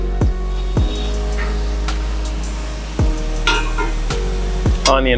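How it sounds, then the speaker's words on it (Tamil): Chicken flipped and stirred in AMC cookware over low flame, sharp scraping and clanking strikes of a utensil against the pan at irregular intervals over a low, steady hum. "திருப்பி போடுறேன் இந்த சிக்கன் எல்லாத்தையும்."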